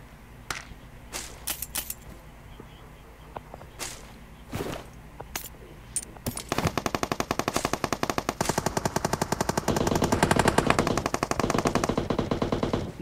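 Gunfire in PUBG Mobile: scattered single shots and short bursts early, then a sustained, rapid machine-gun rattle with dense loud rounds dominating the rest, no talk over it.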